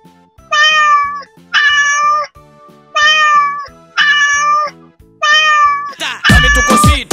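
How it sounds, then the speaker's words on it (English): A cat meows loudly five times in an even, evenly spaced rhythm over a bouncy children's music beat, with a final burst of louder musical noise at the end. "Cat."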